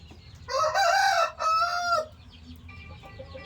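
A Pachakaki breed rooster crows loudly and close by, one long two-part call followed by quieter clucking and farmyard murmur.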